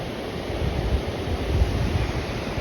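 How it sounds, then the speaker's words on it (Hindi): Water flowing steadily in a mountain stream in Tehri Garhwal, Uttarakhand, a continuous close broadband rush with no voices. "देखो वो देखो पानी का वहाँ से बहाव आ रहा है"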